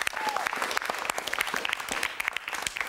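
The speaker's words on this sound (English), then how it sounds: "Give yourselves a round of applause for showing up and doing this." An audience claps for a few seconds in a room, a moderately faint, steady patter of many hands with a few sharper individual claps standing out.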